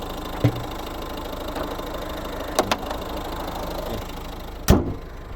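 A 2011 Mazda 5 1.6 diesel minivan engine idles steadily at close range, a continuous low rumble broken by a few sharp clicks and knocks, with no talking.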